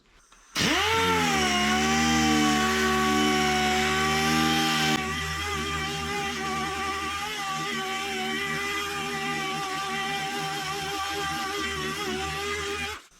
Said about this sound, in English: I'll keep sanding up top until that smooths off